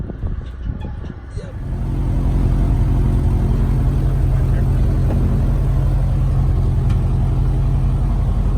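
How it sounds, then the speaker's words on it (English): Cub Crafters NX Cub aircraft engine running steadily at high power, a loud continuous drone that builds up after a brief quieter start and holds without a break. "that engine is pretty awesome. Yeah, it screams"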